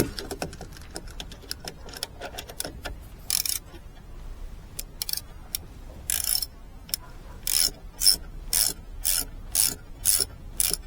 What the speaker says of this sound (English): got a bolt, well an Allen key here, and there's one down here which we're going to take off